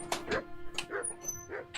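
Dog in the video game Kingdom Come: Deliverance 2 barking and yipping in a few short, quick bursts, fairly faint, with a voice briefly heard nearby.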